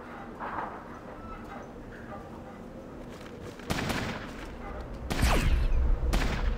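Gunfire crackles in the video game Fallout: Tactics, starting as a faint background murmur and then breaking into a few sharp, loud bursts of shots in the second half.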